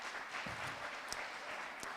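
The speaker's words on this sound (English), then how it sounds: "Let's give them a round of applause" Audience applause at a startup pitch expo, a steady wash of clapping from a crowd lasting about two seconds, with a few sharper claps standing out near the middle and end.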